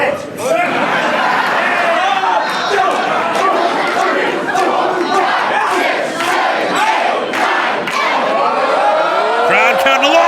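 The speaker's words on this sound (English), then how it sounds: "Crowd counting along." Wrestling arena crowd roaring and chanting in unison during a match, a dense, steady wall of many voices with rhythmic shouted bursts throughout.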